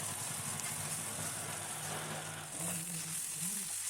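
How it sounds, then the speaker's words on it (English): Eggplant pieces frying in a pan for vangi bath, giving a steady, dense sizzle that continues unbroken throughout, close and fairly loud, with a faint low hum underneath. "see to that the pieces are cooked or fried"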